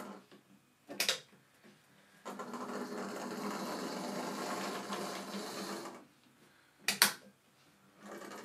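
An old Lima model locomotive's motor whirs steadily as it runs along the track for a few seconds, close up, framed by two sharp clicks or clunks before and after, with no talking.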